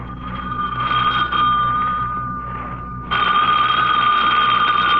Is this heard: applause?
no